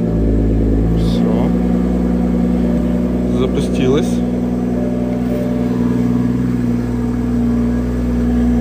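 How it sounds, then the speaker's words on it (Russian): A car with a stock exhaust idles steadily after a brief starting crank, with a low, even exhaust rumble and a voice speaking over it. "Запустилась. Я давно не слышал стокового выхлопа."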